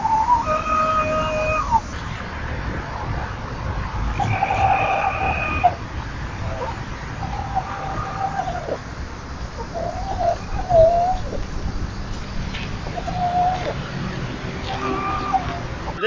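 Farm birds such as chickens, roosters and doves call and coo in short bursts around the yard, moderately close, with some faint human voices mixed in the background.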